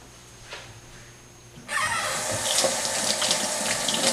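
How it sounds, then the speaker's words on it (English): A kitchen tap is turned on partway through and water runs steadily into the sink for hand washing, a close, continuous rushing splash filling the rest of the moment after a quiet start. "So let me wash my hands"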